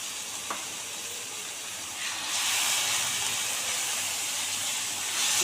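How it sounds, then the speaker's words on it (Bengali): Ground chilli, turmeric, cumin, coriander and garam masala fry with yogurt in a pan for chana masala, a soft steady hiss that swells into a louder sizzle partway through, with one small knock early on and no talk. "মশলা ভালো করে ভাজা হবে।"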